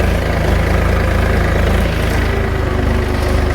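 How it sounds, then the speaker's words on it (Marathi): A tractor engine running, a loud, close, steady low rumble with a throbbing rhythmic chug and no voices. "बघा ट्रॅक्टर आज चाललोय घराकडं."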